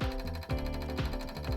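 A jackhammer pounds into rocky ground at an excavation site, a loud, close, rapid mechanical hammering that pulses in short bursts with brief shifts in pitch, and no talk.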